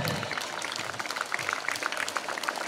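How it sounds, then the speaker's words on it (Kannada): A school crowd at an annual sports day in Shivamogga claps for a student athlete, dense, steady applause from many hands that holds for the whole span without cheering. "ಇವರಿಗೆ ನಿಮ್ಮ ಪ್ರೀತಿಪೂರ್ವಕ ಜೋರಾದ ಚಪ್ಪಾಳೆ"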